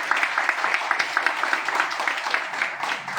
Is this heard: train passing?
no